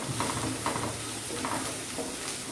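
An onion mixture being stirred in a frying pan ahead of tomatoes, with a continuous close sizzle and recurring scrapes of the spoon against the pan.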